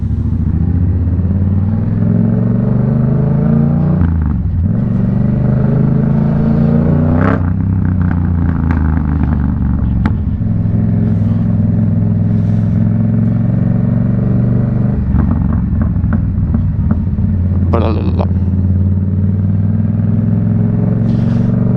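A Yamaha MT-07 motorcycle on a road ride, its engine note rumbling steadily up close, rising and falling through gear changes with occasional clattery bursts.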